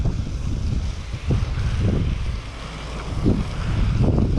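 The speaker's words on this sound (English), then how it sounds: "wind's kicking" Gusty wind on open water during a fishing outing, a loud, close buffeting roar over the microphone that swells and eases in uneven waves, with no talk.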